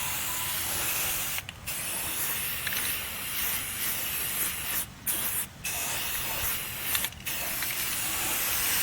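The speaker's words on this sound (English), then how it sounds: "Put a good old self-etching primer, and then a coat of black will protect the welds." Spray can of self-etching primer applied over welds on a utility trailer frame: a loud, steady hiss close by, broken by a few brief pauses between passes.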